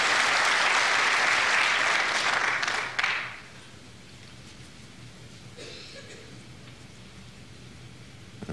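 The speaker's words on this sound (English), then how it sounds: "some generous applause there for Ken Doherty" Snooker audience at the Irish Masters gives generous applause for Ken Doherty, a loud, dense burst of clapping that stops abruptly after about three seconds, leaving quiet hall ambience.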